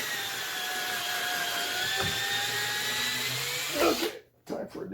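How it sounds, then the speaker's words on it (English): Cordless power drill whining steadily as it pre-drills a hole through a knot in wood for trellis screws, the motor pitch sagging slightly under load before stopping near the end. "Definitely wanted to pre-drill this one."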